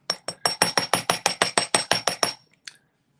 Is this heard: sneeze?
no